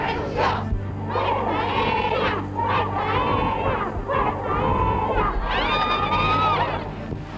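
A crowd gathered outside the Ministry of Defence shouts and cheers in a sustained, dense roar, with overlapping voices and a few higher yells rising near the end.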